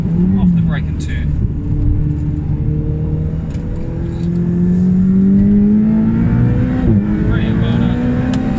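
A 2018 Ferrari 488 Challenge race car on a circuit brakes and then accelerates, its engine a loud steady drone that dips and climbs in pitch, with an instructor's voice talking over it.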